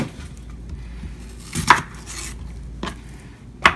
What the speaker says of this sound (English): Cut the onion now.